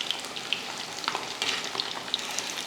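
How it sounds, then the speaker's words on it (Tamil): Fish frying in oil, with a constant close hiss of sizzling and scattered small pops and crackles, alone with no talking. "பாருங்கள் மீன் வந்து சூப்பராக நல்லா மொறு மொறு மொறு மொறுன்னு வெந்துருச்சு"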